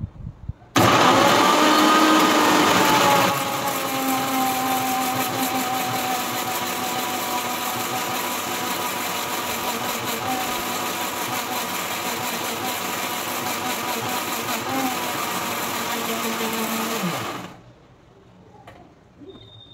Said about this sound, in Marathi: पुन्हा एकदा मी मिक्सरला फिरवून घेत आहे